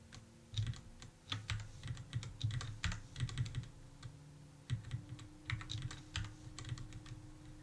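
Rapid bursts of keystrokes on a computer keyboard while deleting lines of code, clustered in quick runs with short pauses, close and fairly quiet with no talking.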